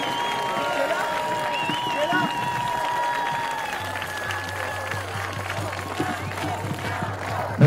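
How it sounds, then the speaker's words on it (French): Crowd at a rally for freedoms applauding, scattered clapping mixed with a murmur of voices and some cheering that continues evenly for several seconds, held at moderate loudness. "Je vous laisse l'applaudir."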